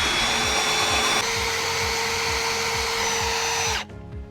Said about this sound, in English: Using this provided tungsten carbide bit, which can drill probably 100 slates.